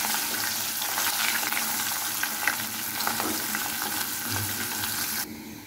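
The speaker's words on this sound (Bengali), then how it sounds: "মাছটা আমার ভাজা হয়ে গিয়েছে, এখন আমি তুলে নিচ্ছি।" Rohu fish frying in hot oil, a loud, continuous crackling sizzle with stirring scrapes close by, cutting off abruptly near the end.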